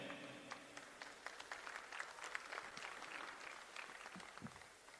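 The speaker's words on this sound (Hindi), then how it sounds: "मैं चाहूंगा जोरदार तालियां हो जाएं जो हमारी पूरी मैनेजमेंट टीम है।" A crowd at an All India Karate Championships event applauds the management team, with many hands clapping in a sustained, slightly uneven burst, moderately distant and continuous throughout, tapering a little at the end.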